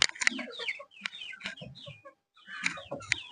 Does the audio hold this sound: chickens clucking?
yes